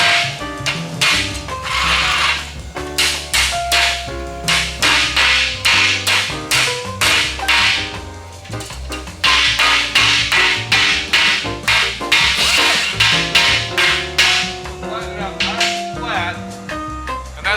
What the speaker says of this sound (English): I'm gonna take my hammer.